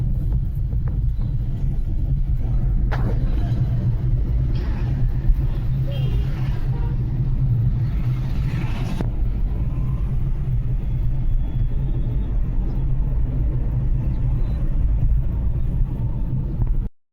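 Heavy road traffic rumbles continuously from close by, a thick low drone of cars, trucks and buses passing steadily, with occasional louder surges and people talking over it.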